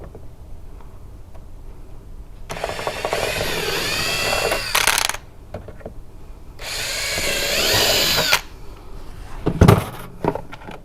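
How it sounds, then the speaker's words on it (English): Power drill boring pilot holes for intake grill covers on a Polaris RZR Pro R, two loud whining bursts of a few seconds each separated by a quiet gap, then a brief clunk of handling. "you're just going to go ahead and do your first pilot hole"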